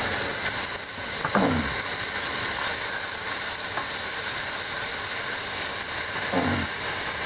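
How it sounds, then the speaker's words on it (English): Onions dropped into a pot of frying meat for a Christmas goulash pot roast, giving a steady loud sizzle with a couple of brief stirring scrapes, no talking. "now it's time to add some of the onions"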